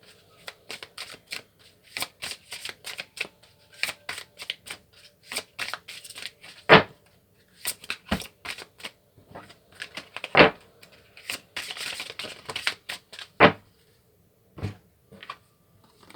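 Oracle cards being shuffled and drawn by hand, with irregular bursts of riffling and sharp card slaps spread across the span, close up and with no talking.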